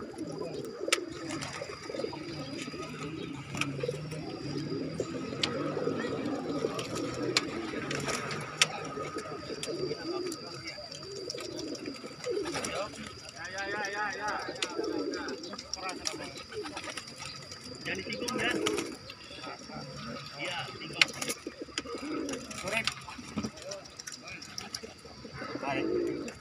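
Pigeons at a bird market in Bekasi coo repeatedly in soft, rolling calls beneath near-constant conversation, with background clatter and other bird sounds mixed in.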